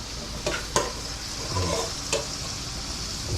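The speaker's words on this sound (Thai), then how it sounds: "แล้วก็เอากระดูกอ่อนหมู มาผัด" Pork cartilage and pork meat stir-fried in a pan in a home kitchen, giving a steady close sizzle broken by a few sharp clinks of the utensil against the pan.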